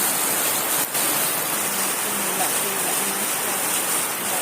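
Heavy rain pouring steadily outdoors in the Philippines after a long dry El Niño spell, a dense continuous hiss throughout with faint voices underneath.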